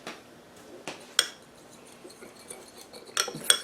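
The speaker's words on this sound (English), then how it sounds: "let's get a fork here. Mix it around, get it all ready" A fork mixes marinade for Chinese shredded beef with bok choy and carrots inside a bowl, giving a few faint, scattered clinks of metal on the bowl's side.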